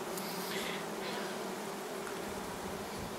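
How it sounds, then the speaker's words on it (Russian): Honeybees at a hive drone in a steady, dense buzz while the queen is being marked, loud and continuous with no voices over it. "Пчелки чувствуют, что маточки нет, начинают уже гудеть."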